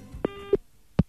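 Telephone ringing tone during a call, a short electronic tone repeating in brief bursts, fairly faint and alone.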